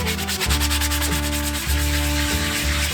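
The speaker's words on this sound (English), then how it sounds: "Sand it smooth." A farrier sands a horse's hoof smooth during shoeing of an eventing horse with toe-clipped shoes, giving a steady rhythmic rasping rub in repeated strokes, close and loud with no talking.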